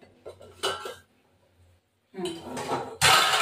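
A lid clatters onto a metal pot of Bengali hilsa fish curry: a few metallic clinks and scrapes, a quiet gap, then louder rattling and a bright final clank close by, with no talking.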